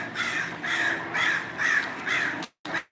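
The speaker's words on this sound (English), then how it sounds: "I hear the crows crowing." Crows cawing outdoors, five evenly spaced loud caws in steady rhythm, fairly close, followed by a brief dropout.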